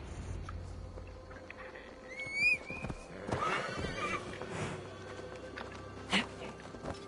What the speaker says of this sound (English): I've ridden my horse through a door to another world.